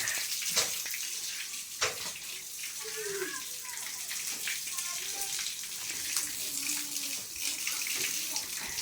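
Running water splashing steadily at a house under renovation, with a continuous spray under intermittent voices talking in the background.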